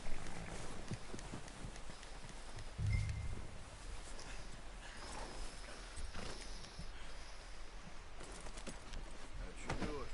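Horse hooves clip-clop in Red Dead Redemption 2, a quiet, uneven patter of hoofbeats on the ground with faint rustling around it, fairly soft throughout.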